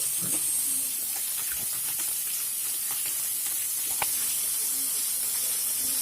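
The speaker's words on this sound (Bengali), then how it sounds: "এবার একটা কড়াইয়ে তেল দিয়ে নুন হলুদ মাখিয়ে মাছগুলোকে প্রথমে ভেজে নেব।" Small mourala fish, rubbed with salt and turmeric, fry in oil in a wok with a steady, bright sizzle and a few faint clinks of cooking.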